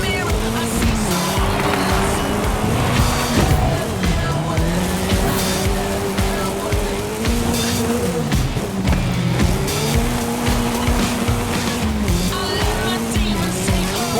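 Race cars roar through a no-holds-barred race in Forza Horizon 5, engines droning and shifting pitch continuously with repeated tire squeals, loud and steady, while a commentator talks over the action.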